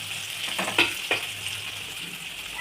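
Green chillies fry in a pan for egg masala, giving a soft, continuous sizzle with a few sharper crackles and stirring scrapes, heard alone at low volume.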